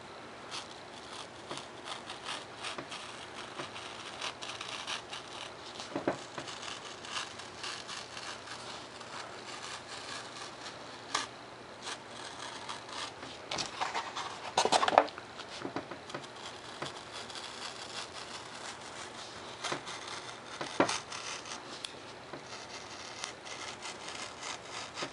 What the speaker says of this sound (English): I'm going to use my X-Acto knife on these